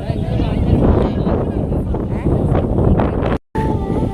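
Strong wind buffets the microphone on a steep downhill hillside walk, a loud continuous rumble and roar. Someone talks over it, and it cuts out briefly near the end.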